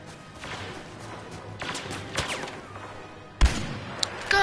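Scattered gunshots and blaster-like cracks in a Star Wars shooter game, mostly mid-distance with a few sharper, louder reports near the end.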